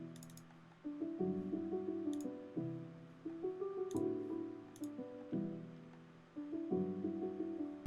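A harmony converted to a MIDI keys track in Ableton for a liquid drum and bass tune: soft, mellow sustained chords changing every bar or so, with faint clicky ticks between them, quiet and alone.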